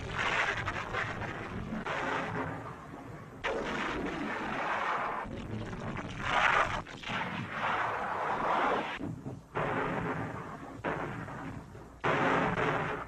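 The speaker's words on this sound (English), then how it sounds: "Dawn, and the Navy's big guns open fire." Big guns of US Navy warships firing on the hostile shore at Tarawa in 1943, heavy booming salvos in irregular bursts separated by brief lulls, loud and rumbling throughout a newsreel soundtrack.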